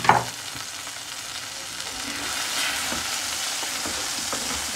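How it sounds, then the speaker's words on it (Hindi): Chilli chicken sizzling in a pan as the marinade masala goes in, a steady broadband frying hiss with a sharper splash at the start, close and continuous without talk. "ये जो मैरिनेट किया हुआ मसाला था वो भी हम इसमें डाल के पकाएंगे"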